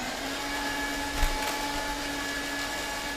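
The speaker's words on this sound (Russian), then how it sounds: "становится шреддер, прибор для нарезки бумаги" A paper shredder runs on a theatre stage, giving a steady, even motor whir with a faint bump partway through.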